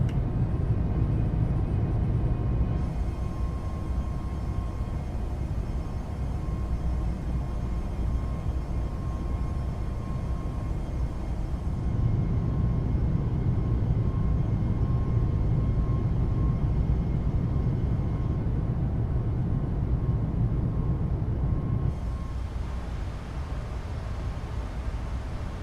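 A Boeing 737 Max climbs after takeoff in Microsoft Flight Simulator: a steady, broad jet-engine roar with low rumble and hiss, continuous and fairly loud, shifting slightly in tone partway through, with no voices.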